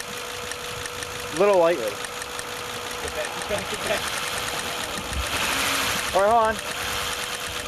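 A misfiring car engine is revved in short bursts, its uneven knocking idle rising in two sharp climbs, with people talking nearby over the running motor.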